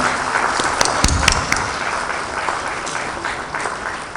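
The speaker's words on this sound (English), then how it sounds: "May we have a round of applause for her." Audience applause at a Bengaluru book launch, a steady wash of many hands clapping throughout, with a few sharper nearby claps standing out early on.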